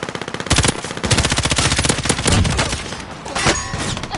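Rapid automatic gunfire rattles in bursts in a video game, loud and close, with several overlapping weapons forming a steady fusillade and brief pauses between volleys.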